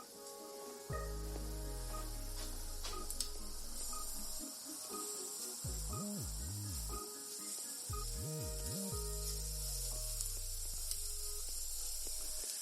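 Shrimp sizzle on a grill pan in a steady, faint hiss that lasts throughout, while low droning background hum sits underneath and nobody speaks.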